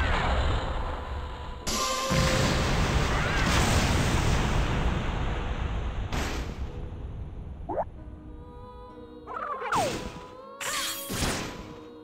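A cannon is destroyed in the video game Disgaea with heavy crashing impacts and booming blasts, interleaved with whooshes and sharp game effects over twelve seconds of dense, loud action.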